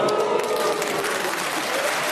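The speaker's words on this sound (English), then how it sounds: "I don't know whether you're applauding the fact that Stephen spotted it" A studio audience at a panel game recording applauds steadily, a dense wash of many hands clapping throughout at moderate loudness.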